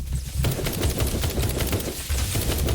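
Rapid, dense booms and rattling gunfire from mortars and other weapons in the survival game Night of the Dead, a continuous loud barrage of overlapping shots with no pause.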